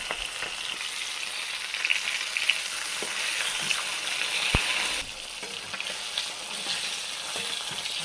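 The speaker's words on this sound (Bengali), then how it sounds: "দুটো ভাজা হয়ে গেছে, দুটো ভাজতে দিয়েছি।" Steady crackling sizzle of fish frying in hot oil, with a few louder pops and spatters, continuous and close.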